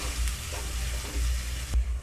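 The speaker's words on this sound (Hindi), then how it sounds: "ऐसे ही हम 2 मिनट चलाते हुए पकाएंगे इसको" Chopped ginger cooking in a pan over a low gas flame for a pickle, a soft steady sizzle with faint scraping from stirring and a few low bumps from the spoon.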